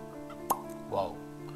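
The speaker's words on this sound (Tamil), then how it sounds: "பாட்டில் ஓப்பன் பண்ணலாம்." Jack Daniel's Single Barrel whiskey bottle being uncorked, a single short pop followed by a brief squeaky exhale-like sound, heard close over a steady background hum.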